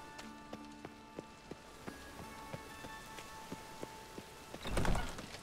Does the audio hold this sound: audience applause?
no